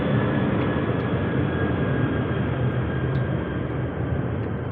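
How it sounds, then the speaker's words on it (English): A broad, steady roar of an airplane passing overhead late at night, constant and fairly loud without clear rise or fade, with no talking. "where is that plane? Can you hear it at this very late night?"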